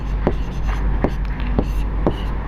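Pen strokes while coordinates are written out in a Class 10 coordinate geometry math lesson, short scratchy marks repeating about every half second over a steady low room hum, close and moderately loud.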